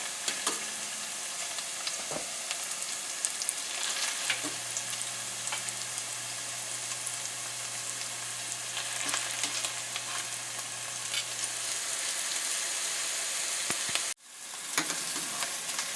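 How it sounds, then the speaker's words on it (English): Liver sizzles and browns in a hot pan, a steady close crackling fry with occasional sharp pops and stirring clinks, running continuously before a brief drop near the end. "I'm going to start adding my liver now. I've let it saute and brown a little bit."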